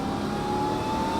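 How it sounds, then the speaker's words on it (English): A Ram TRX pickup truck with valved universal mufflers closed gives a steady engine intake roar, a sustained droning growl held close and constant for about a second with little exhaust note. "You get huge intake noise and no exhaust."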